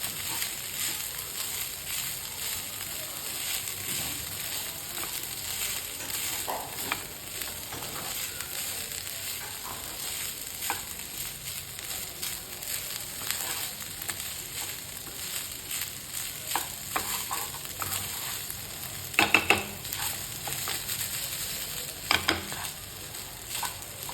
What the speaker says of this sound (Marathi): हे सगळं आता छान मोठ्या गॅसवर परतायचं आहे आपल्याला.